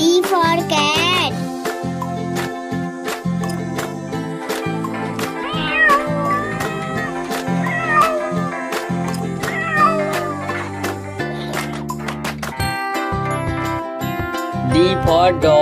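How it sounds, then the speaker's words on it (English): A cat's meows sound within a children's alphabet song, set against a steady musical backing with sung vocals, the wavering cries rising over the dense, continuous music. "C for cat. C for cat."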